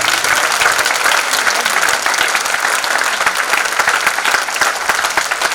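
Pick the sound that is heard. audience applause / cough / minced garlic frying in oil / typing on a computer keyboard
audience applause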